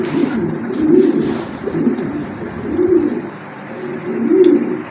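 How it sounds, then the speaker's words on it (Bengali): Fancy pigeons of show breeds coo at a market stall, a series of low rolling coos repeating in three or four swells, close and fairly loud over faint background chatter. "মাশাআল্লাহ অনেক সুন্দর কবুতর, সুন্দর শেপের কবুতর"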